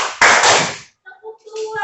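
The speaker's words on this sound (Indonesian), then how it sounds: "Kalau saya bilang satu, tepuk tangannya." An audience claps once together on cue, making one short, sharp burst that fades within a second, followed by a voice speaking.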